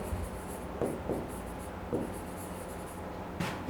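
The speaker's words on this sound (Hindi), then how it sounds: "दूसरा सेंटेंस लिखते हैं हम लोग" Chalk or a marker scratches faintly across a classroom board in a few short strokes, quiet and close, with no talking.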